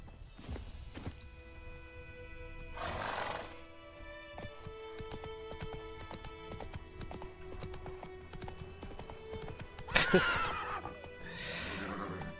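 Horse in The Witcher 3 video game: several neighs and whinnies, the loudest near the end, over steady clip-clop of hooves alongside layered game music and ambience.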